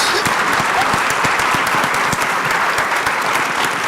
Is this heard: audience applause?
yes